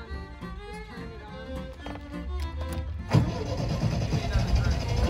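A 1974 MGB engine cranks over about midway through, its churning mechanical rumble starting abruptly and then holding steady and loud to the end, after quieter, muffled background sounds.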